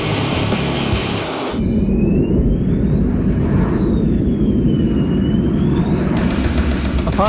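An F-14 fighter jet in flight during a supersonic dash, a loud continuous engine roar with a slowly rising and falling whine, steady throughout with no talk.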